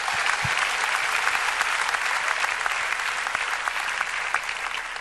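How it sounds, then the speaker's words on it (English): A worship congregation claps hands together in sustained, dense applause, steady and fairly loud throughout with no pauses. "Vamos todos bater palmas, which means, let's clap our hands."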